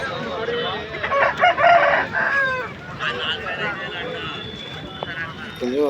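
A rooster crows nearby at a rooster market in Nallapadu while people talk over it, with other birds faintly clucking in the background.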